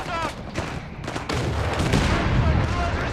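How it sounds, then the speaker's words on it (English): Artillery fire in Company of Heroes 3, including a heavy 305mm barrage, lands as a rapid series of booming blasts and rumbling explosions that build into a dense roar, with a player's voice under the action. "I hope this artillery is worth the wait"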